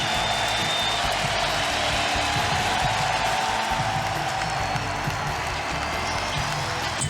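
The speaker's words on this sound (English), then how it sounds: "as he heads off the mound, a large ovation from his new hometown crowd" A Dodgers home crowd at a baseball game against the Giants gives Greg Maddux a big ovation, a steady wash of applause and cheering that holds for several seconds without letting up.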